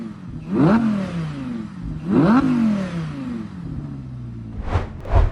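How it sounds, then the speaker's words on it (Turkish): A naturally aspirated Audi R8 with a full custom exhaust revs hard twice, each rev snapping upward and falling away, followed by a couple of sharp exhaust pops and crackles close by. "Komple egzoz yapınca yırtıyor ortalığı yani."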